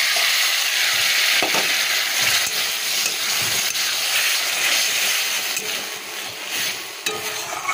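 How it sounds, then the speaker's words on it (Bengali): Chopped onion tempering in hot oil with thick-cut papaya slices, giving a steady, dense sizzle and hiss with occasional stirring scrapes, loud and close throughout. "পেঁয়াজ ফোড়ন দিয়েছি"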